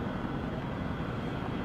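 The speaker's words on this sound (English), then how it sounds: "Well, Ali, here's a lovely Airbus that's come by to pick you up." An Airbus airliner arriving in a war-zone action scene, heard as a steady, dense jet engine roar that holds constant throughout without a break.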